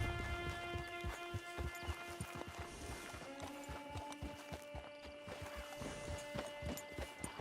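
Horse hooves clip-clop steadily at a walk in Red Dead Redemption 2, near and fairly loud with even rhythm, over faint tonal game music.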